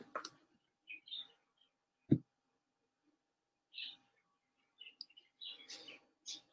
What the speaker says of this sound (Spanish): Por ahí si es que hay sonidos de pajaritos, de perritos, es por esta situación.